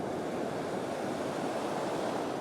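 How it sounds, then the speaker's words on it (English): Ocean waves break on a beach in a continuous, close, loud wash of surf, with wind noise adding a rough, even hiss throughout. "Bit of a wave coming."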